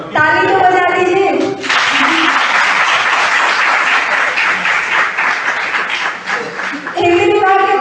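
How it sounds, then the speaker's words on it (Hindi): Sustained applause from an audience at a Hindi Diwas event at a college Hindi department, with broadband clapping running about five seconds, preceded and followed by a voice speaking over it. "ताली तो बजा दीजिए।"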